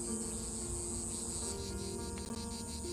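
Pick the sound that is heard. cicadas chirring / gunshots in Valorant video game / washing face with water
cicadas chirring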